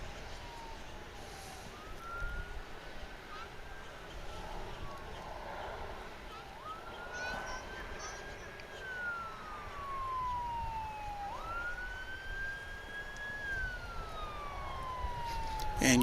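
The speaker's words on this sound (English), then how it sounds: "And you probably hear an ambulance, which is now racing." An ambulance siren wails in rising and falling sweeps near a DFW International Airport runway, steady over low background rumble and faint talk.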